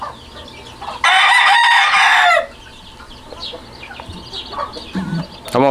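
A hen clucking among her chicks in a backyard coop: a loud, harsh, drawn-out call for over a second, then softer scattered peeps and clucks nearby.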